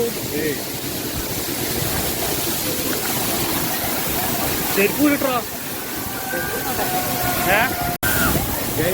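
Anayadikuthu waterfall in Idukki pours in a steady, broad rushing roar close by, with people talking over the water throughout.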